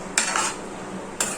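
A spoon scrapes and clinks against a pan while stirring kombdi vade chicken curry, two short metallic bursts separated by a pause, close and clear with no voices.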